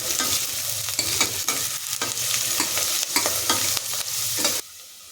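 Onions, bay leaf and curry leaves frying in hot oil for veg kurma, a steady close sizzle broken by repeated scraping stirs of a spoon in the pan.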